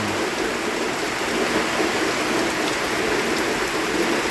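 Steady, heavy rain pours down continuously, a dense even hiss with no voices.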